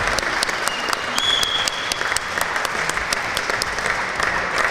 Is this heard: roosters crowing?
no